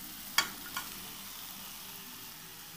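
Cut eggs hit sautéed tomatoes in a pan with a sudden sizzle burst, then a smaller second splash, settling into a soft, steady frying hiss.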